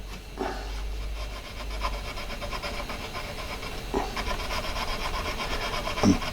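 A polishing broach works back and forth inside a hole in a striking and chiming clock's plate, giving a faint, steady metallic rubbing with a few brief louder scrapes.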